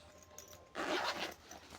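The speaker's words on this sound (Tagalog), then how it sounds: "At meron din po siyang zipper dito." A zipper on a laptop bag is pulled open in one quick, close, scratchy zip lasting about half a second, after quiet handling noise, with faint background hum throughout.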